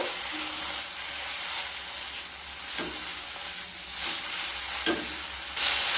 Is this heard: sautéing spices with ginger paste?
yes